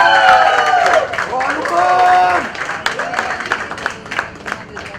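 Audience applause welcoming a new director onto the stage at a web series launch event, a steady wash of clapping mixed with crowd noise and overlapping voices and tonal sounds.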